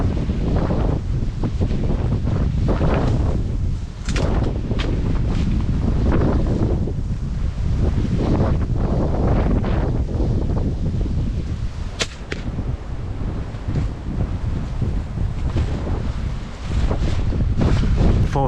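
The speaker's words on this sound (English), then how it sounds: "it is mega windy" Strong wind buffets the microphone outdoors during broadhead arrow shooting in a constant roaring rumble, with gusts swelling and easing throughout and no voices.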